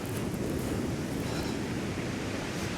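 Sea waves washing onto the beach at Shoreham, a continuous close roar of surf and wash with no distinct individual breaks standing out.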